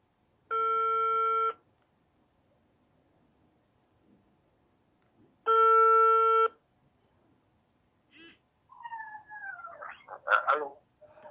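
Outgoing call ringing on a telephone: two long, loud ring tones a few seconds apart in otherwise quiet surroundings, followed by a short burst of garbled line noise as the call connects.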